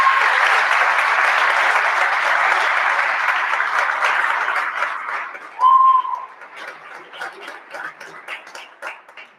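Audience applause for officials at a winter sports awards event, a dense sustained round of clapping that fades after about five seconds into scattered claps, with a brief whistle-like tone near the end.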